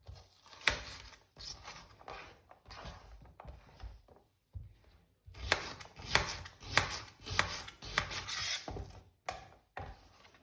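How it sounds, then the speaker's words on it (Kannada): Tomatoes and an onion are cut into small pieces with a knife on a board: a close series of crisp chopping knocks in uneven bursts, with a short pause midway and no talking. "ಉದ್ದಿಗೆ ಸಣ್ಣ ಕಟ್ ಮಾಡಿ."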